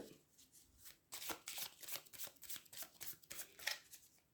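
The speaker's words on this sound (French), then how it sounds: "je vais battre les cartes" Tarot cards are shuffled close by in quiet, rapid riffling bursts with soft papery flicks, repeating unevenly over several seconds without speech.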